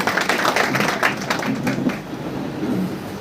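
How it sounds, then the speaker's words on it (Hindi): An audience at a freshers' party gives a standing ovation for a madam on stage. The clapping is dense and scattered, moderately loud, and fades slightly toward the end. "खड़े होकर के मैडम के सम्मान में एक जोरदार ताली होनी चाहिए"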